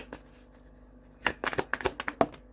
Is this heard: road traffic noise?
no